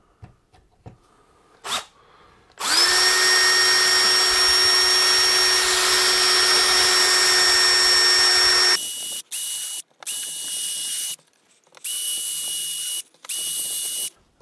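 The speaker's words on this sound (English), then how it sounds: "let's go ahead and drill these four holes first" Power drill boring four holes for Pixelcade dot sub-displays, with one long loud steady whine followed by several shorter bursts of drilling separated by brief pauses.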